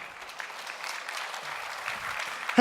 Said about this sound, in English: Wow, you guys applauded so hard.